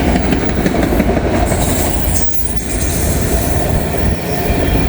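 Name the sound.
M511 freight train with auto racks passing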